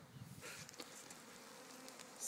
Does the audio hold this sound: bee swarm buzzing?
yes